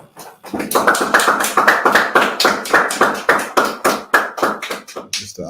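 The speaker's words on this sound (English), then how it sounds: "clap it up" A group claps together at a brotherhood class, a steady run of sharp, loud, close hand claps with a slight rhythmic pulse, no talking over it.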